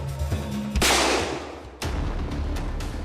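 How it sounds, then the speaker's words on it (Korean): A sudden loud blast from a prop revolver firing a live round on a film set cuts through the scene, followed by a sharp second bang about a second later, with lingering low rumble between. "총소리가 난 직후 쓰러진 사람들."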